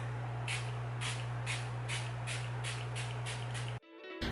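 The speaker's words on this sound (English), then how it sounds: "I'm just gonna shake it up and spray the face" A rhythmic series of short pumps from a makeup setting mist spray bottle sprayed onto a face, about eight evenly spaced puffs, sounds over a steady low hum, ending with an abrupt cut.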